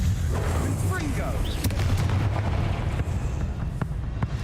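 A Confringo fire spell blasts in the Hogwarts Legacy video game, a heavy booming burst over dense rumbling battle noise, with sharp cracks and a spider's shrill cries scattered through the loud, continuous din.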